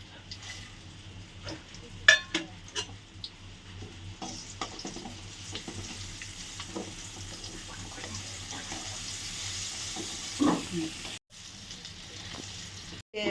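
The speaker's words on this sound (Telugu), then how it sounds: "ఆయిల్ హీట్ అయింది. ఫస్ట్ ఎండుమిర్చి వేసుకుందాం. ఆవాలు, శనగపప్పు వేసేసుకుందాం." Dried red chillies, mustard seeds and chana dal fry in hot oil as a tempering for curry leaf chutney, giving a steady crackling sizzle with scattered pops and stirring clatter throughout, with no voices.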